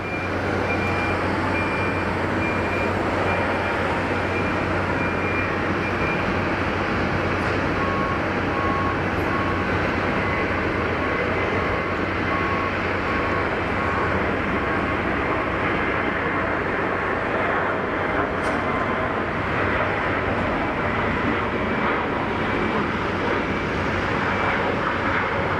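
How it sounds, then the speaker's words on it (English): A Swiss Airbus A320neo at Geneva Airport spools up for its takeoff roll on a short flight to Zurich, a steady broadband engine roar heard from a distance that holds level throughout with a faint tonal whine. "So the Swiss 320 Neo about to begin its takeoff roll."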